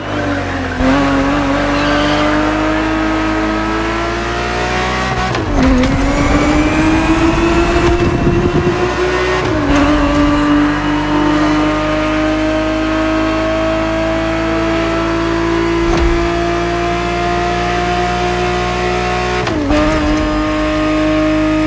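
A 1970s Ferrari 365 GTB4 races hard in The Crew Motorfest, its engine note climbing and dropping through repeated gear changes with tire squeal, loud and continuous with no talk.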